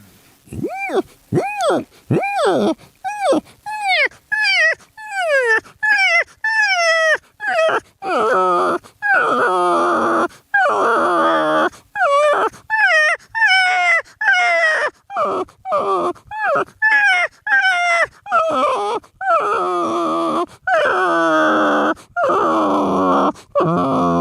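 A man imitates a dog whimpering and huddling from the cold, making a long run of rhythmic, whiny, moaning yelps close up, each short cry rising and falling in steady succession with no other voices.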